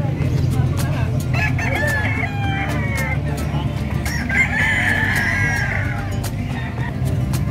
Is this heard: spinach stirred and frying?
no